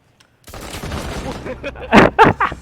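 Pistol fire in a shooter video game: a short run of sharp shots near the end, the last few loud and close, after a stretch of busy game noise with voices.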